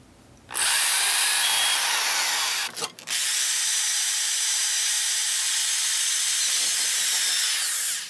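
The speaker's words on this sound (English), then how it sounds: "So I'm gonna drill the holes." A power drill boring holes in wood for a homemade flute runs loud and steady with a hissing whine, starting after a half-second pause, briefly cutting out near the three-second mark, then running on to the end.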